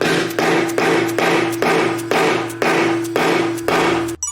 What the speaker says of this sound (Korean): 망치질합니다.